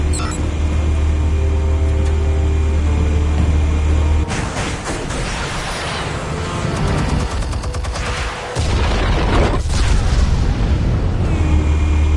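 Explosives detonate in a PS4 video game: a continuous loud barrage of heavy booms and rumbling blasts, layered over a droning game soundtrack with a brief drop in the low rumble before it resumes.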